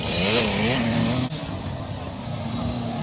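Two 50cc motorcycles racing between Klyne Pabalate and Caycay Adem make a loud, high-pitched revving whine that peaks, cuts abruptly and is followed by a lower steady engine drone at a distance.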